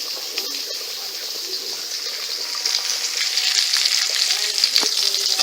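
Chopped onion frying in a home-kitchen pan, a steady bright sizzle that grows a little louder partway through, with occasional light stirring clicks and no talk.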